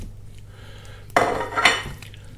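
Chipolata sausages tipped into a casserole of vegetables: after a quiet start, a sudden loud clatter of metal and utensils against the pot, then a second clanking scrape before settling.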